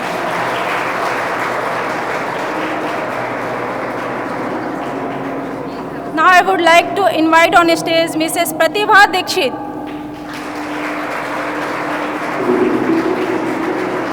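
Steady applause from an audience at a stage event for invited guests, continuous and fairly loud, with someone speaking over it midway before the clapping carries on.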